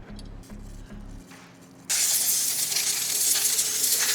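Degreaser sprays in a burst onto a 2022 BMW M1000RR motorcycle part, a loud steady hiss close by, following some faint clinks and short low hums.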